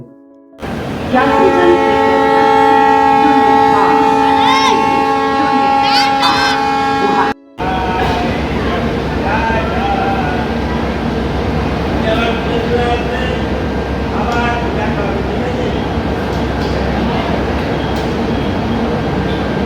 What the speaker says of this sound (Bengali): আর কয়েক মিনিট, ট্রেনটা ছাড়ার সময় হয়ে গেল।